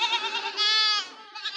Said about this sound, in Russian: Ну что, малышня, мекаете?